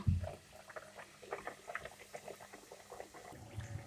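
Thin crispy roti fries in hot oil over medium heat, a faint scattered bubbling and popping crackle with irregular spurts, close and quiet with no talk.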